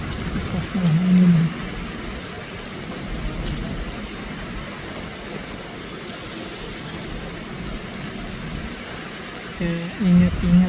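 Strong typhoon wind from Typhoon Tino sweeps through Panglao, Bohol, a steady roaring rush with rain that holds throughout and swells in gusts at the start and end, while a person talks over it.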